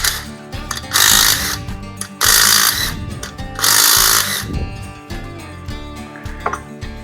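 Torqued bolts on a Pontiac Trans Am engine being backed off with a power tool, three loud bursts of about a second each, separated by quieter clanks and rattles.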